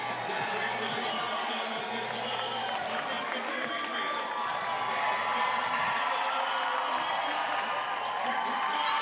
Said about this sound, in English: this crowd is going crazy for a man that has done huge things